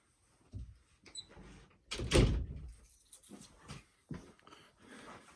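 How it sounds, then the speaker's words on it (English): Several bumps and a louder thud as a door is shut nearby, with scuffing and a brief squeak between quieter pauses; dogs are excited nearby. "Let me close the door."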